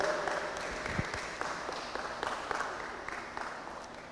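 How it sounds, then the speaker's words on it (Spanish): A church congregation applauds at a Wednesday service, a dense wash of clapping with some voices and cheers mixed in, steady and fairly loud across the whole stretch. "¿Por qué no le das un fuerte aplauso al Señor?"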